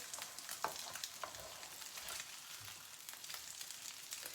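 Sausages sizzle and spit steadily in a frying pan for a breakfast fry-up, with a few soft scrapes and taps as a spatula turns them over, fairly quiet and close with no talking.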